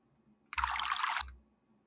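A short burst of water sound effect, a rushing flow that starts abruptly, holds steady for under a second and cuts off, clear and alone with no talk.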